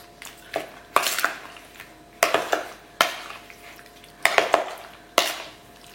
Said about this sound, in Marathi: आमी आतां बरें मिक्स करूया सॉल्टान